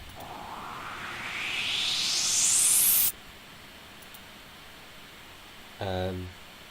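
Three synthesizer oscillators set to white noise produce a loud hiss that sweeps steadily upward through a filter for about three seconds and then cuts off abruptly, followed later by a brief, short tonal burst.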